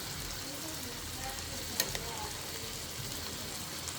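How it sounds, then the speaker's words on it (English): Spanish rice simmering in a covered pot gets a quick stir, a soft continuous bubbling hiss with a brief clink of the spoon partway through, close and fairly quiet, no voices. "I'm just going to give this a quick stir."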